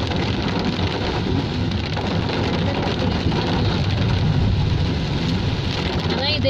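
Steady rain drums on a car driving along the Wayanad Churam ghat road, a dense continuous wash of drops on the body and glass that stays loud and even throughout, with the low rumble of the moving vehicle underneath.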